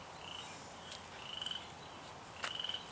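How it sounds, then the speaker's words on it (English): A frog croaks outdoors in a garden, sending out short pulsed bursts of rapid ribbits, faint and somewhat distant against a quiet background, with no one speaking. "you hear that frog? It's like, rabbit, rabbit, rabbit, rabbit, rabbit."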